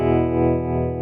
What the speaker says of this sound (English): I have tremolo. Tremolo sounds like this.